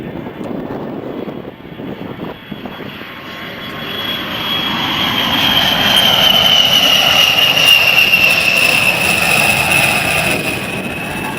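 A-10 jet making a slow-speed pass at an Andrews AFB air show: engine roar builds from a distant rumble to a loud, sustained whine with a rising-then-falling high tone as it passes.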